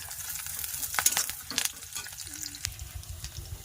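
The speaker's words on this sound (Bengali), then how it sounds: "পেঁয়াজটা লাল লাল করে ভাজছি" Chopped onions fry in mustard oil in a wok, a close, steady sizzle broken by several scraping stirs of a spatula against the pan.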